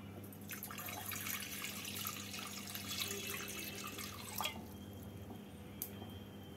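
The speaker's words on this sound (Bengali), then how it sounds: "গ্যাসে কড়াই বসিয়ে কড়াইতে দিয়ে দেব 2 কাপ জল।" Two cups of water poured into a kadai sitting on a gas stove make a continuous close splashing trickle with a few sharper drips near the end, and no voices.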